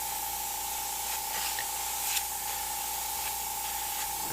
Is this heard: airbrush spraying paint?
yes